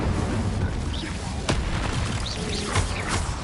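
The Incendio fire spell is cast in combat in the game Hogwarts Legacy, a short sharp burst and whoosh amid a dense, noisy fight with other bangs and effects; voices may sound underneath.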